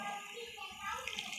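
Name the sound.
vegetable cooking water poured into pav bhaji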